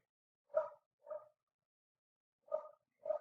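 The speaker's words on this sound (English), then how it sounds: "I'm ready to like muzzle a couple of doggies who must be barking at things outside." A couple of dogs bark outdoors, four short muffled woofs in two pairs, faint and distant, heard through walls, with silence around them.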